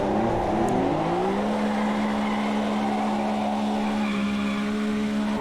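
A Porsche RSR race car spinning a donut in Automobilista 2, tires squealing in a sustained loud screech over a steady engine drone, the pitch sliding down and then holding level for several seconds.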